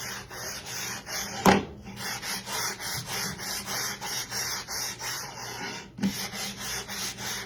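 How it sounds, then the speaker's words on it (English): Steady back-and-forth rasping of sandpaper by hand along a wooden edge, close and rhythmic, with a couple of sharper scrapes along the way. "So I am sanding down all the way around the edge."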